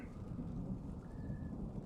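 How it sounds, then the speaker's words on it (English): Rain falls in the puzzle game Spring Falls as a soft, steady hiss with faint low rumbling, quiet and continuous with no talking. "It's raining!"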